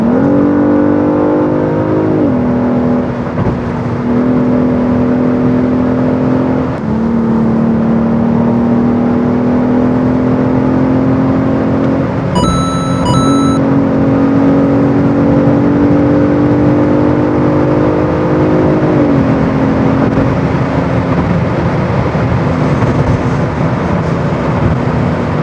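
A Genesis G80 Sport accelerates hard in sport mode, its engine note boosted by active sound generation, rising in pitch through several gear changes with brief dips at each shift, loud and continuous inside the cabin.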